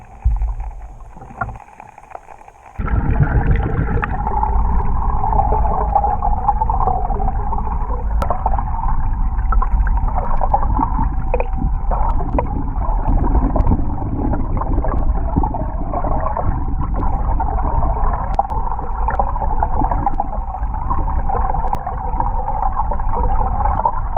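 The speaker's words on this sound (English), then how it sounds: "Let's go ahead and do something where the boat is moving and I can just track the lure behind it." A small boat moving steadily across water while trolling a handmade fishing lure behind it: a continuous loud motor drone and rushing water hum after a brief quieter start, close to the microphone with wind buffeting and no speech.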